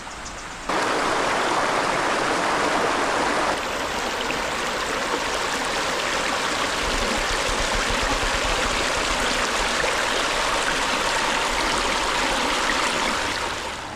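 Stream flowing beside a riverside campsite on a rainy day, a steady, close rushing and gurgling of water that continues evenly throughout.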